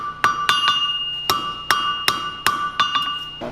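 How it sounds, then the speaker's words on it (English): Hot steel stem struck with a hammer on an anvil's step during a blacksmithing class in Goshen, Ohio, forging a small vine: eight sharp ringing metallic blows at an uneven pace, close and loud, with no talk. "I'm going to hammer it like that a little bit"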